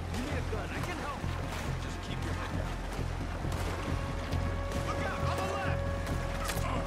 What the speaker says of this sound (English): I'm fucking paddling